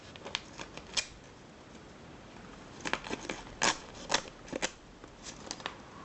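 Victorinox Swiss Card Lite scissors snip through envelope paper in a series of short, crisp cuts, a few isolated at first and then a quicker cluster, close and fairly quiet with no talking.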